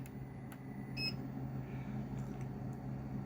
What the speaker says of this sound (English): Yeah, I just heard the inverter beep.